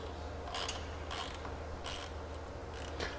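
A wrench ratchets in short repeated bursts as a machine foot bolt is loosened during soft foot correction, close and clicking over a steady background hum.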